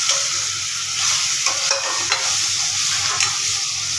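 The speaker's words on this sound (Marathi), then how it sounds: "नंतर मी सोयाबीन टाकत आहे।" Soybeans hit a hot pan and fry while being stirred, giving a continuous bright sizzle with a few sharp spoon-against-pan knocks, close and steady, without talking.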